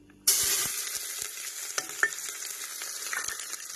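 Chopped onion drops into hot oil in a pan for an aloo-carrot mixed vegetable curry, bursting into a loud steady sizzle that carries on throughout, with a few soft clicks and scrapes of a spoon stirring.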